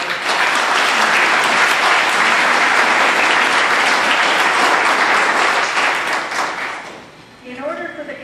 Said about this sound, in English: So let's give a round of applause to those